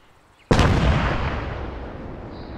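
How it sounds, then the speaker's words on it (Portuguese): A loud explosive detonation in the military game Arma 3 hits abruptly and alone after near silence, then rolls into a long, slowly fading rumble. "Explodindo"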